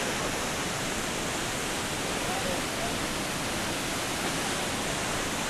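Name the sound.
Pailon del Diablo waterfall, Rio Verde, Ecuador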